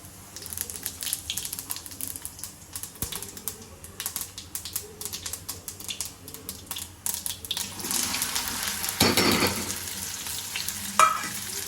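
Mustard and cumin seeds crackle and pop in hot oil for a potato and okra curry. Dense rapid pops and stirring scrapes build into a louder burst of sizzling near the end.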